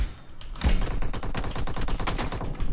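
Rapid bursts of video game gunfire in a 2v2 match, loud and close, with automatic fire rattling in quick succession and almost no voices.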